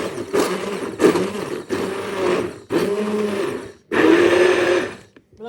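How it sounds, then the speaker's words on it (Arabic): Blender grinding a healthy dessert mixture, loud motor roar in five bursts separated by short pauses, the last burst strongest before it stops. "نبقى نطحن حتى يطحن كلشي ويعقد ديال الخليط"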